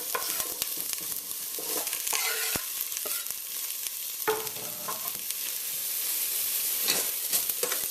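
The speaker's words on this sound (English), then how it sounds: "Give that a quick stir." Chopped Scotch bonnet, celery, scallion, onion and garlic get stirred in a pot over low heat, a spoon scraping and clacking against the metal over a soft sizzle, close and unvoiced.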